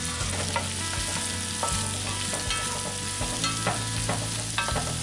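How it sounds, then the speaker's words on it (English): Flour-coated shrimp frying in a pan, a loud continuous sizzle broken by repeated scraping and clattering as they are stirred around, close and without speech. "And we're going to stir them around a little bit."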